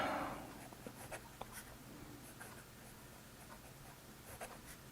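A Wing Sung 699 fountain pen with a medium nib writes on paper, giving a faint, soft scratching of strokes that continues steadily and close by, with no talking.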